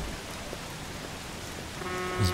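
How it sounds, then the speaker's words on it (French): Steady rain hisses across the whole clip in the video game Mafia 2, with a few faint tonal beeps and a brief thump near the end. "Il pleut comme vache qui pisse."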